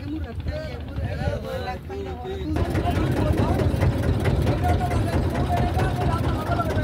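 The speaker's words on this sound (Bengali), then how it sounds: "নৌকা এখনই ছেড়ে দেবে।" A boat pulls away from the bank and heads across the Shitalakshya river, its engine and water noise rising to a steady, wind-buffeted rumble partway through while people talk over it.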